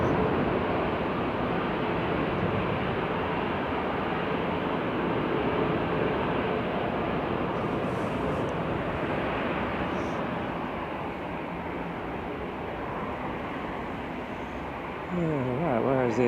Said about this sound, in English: apart from the plane taking off